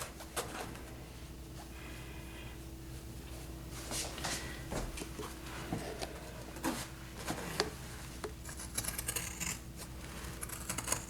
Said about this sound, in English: I'm going to cut, keep your factory edges together